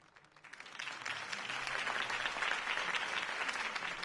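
Crowd applause after a campaign speech, rising quickly from a few claps into steady, sustained clapping from a large audience heard at moderate distance.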